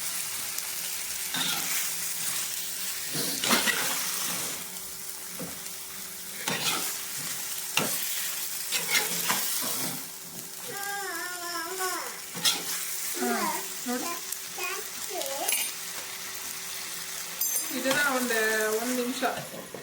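Chops frying in a pan are stirred, making a continuous close sizzle with intermittent scrapes and taps of the spoon against the pan, while a voice and a woman's speech come in and out over the cooking.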